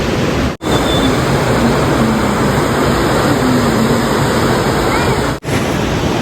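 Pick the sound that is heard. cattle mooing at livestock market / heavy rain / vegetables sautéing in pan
heavy rain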